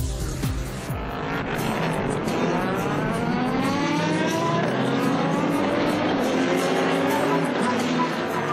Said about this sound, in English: start your engines at Paul Ricard